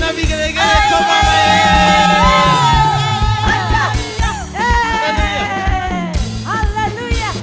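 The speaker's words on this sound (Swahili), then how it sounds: "shangwe na vigelegele kwa Bwana." A congregation at a Kikuyu church service cheers and ulilates with high warbling trills and shouts, a dense, loud crowd sound with many overlapping voices swelling in repeated bursts.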